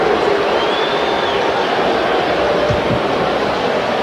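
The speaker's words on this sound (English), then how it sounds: "you hear the reaction from the crowd" An arena crowd at an NBA All-Star Game roars after a vicious tomahawk dunk, a broad sustained wash of cheering that stays loud and even throughout.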